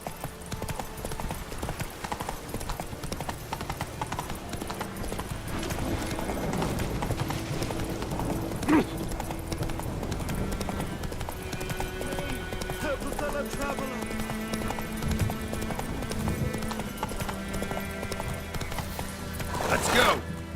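A horse gallops in the video game The Witcher 3: Wild Hunt, with quick, rhythmic hoofbeats that continue throughout. A faint background game score plays underneath, and a whinny-like sound rises briefly.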